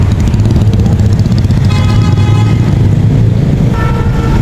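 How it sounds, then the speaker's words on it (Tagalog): Heavy road traffic on a rainy day in Cubao, Manila: a constant loud rumble of engines and tyres on wet road, with faint horn toots mixed into the steady roar. "Ito talagang daan dito, masyadong traffic."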